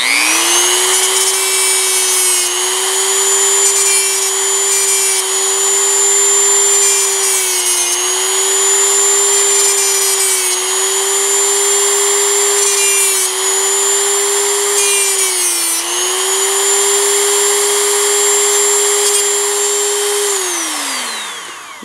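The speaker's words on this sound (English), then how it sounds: "you're going to take your sandpaper and go on the edges and soften out every" A power carving tool sands the edges of a small wooden acorn with a loud, steady high whine, dipping briefly every few seconds as it presses the wood, then winding down at the end.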